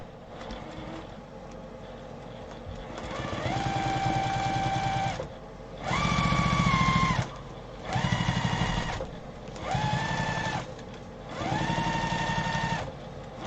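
Sewing machine stitching fabric for a briefcase, running in five separate bursts of whirring motor hum and rapid needle clatter with short pauses between, close and clear with no talking.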